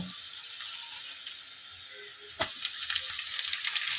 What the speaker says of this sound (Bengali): পালং শাকটা আমরা দিয়ে দেবো, দিয়ে এবার এটাকে এর মধ্যেই ভেজে নেব।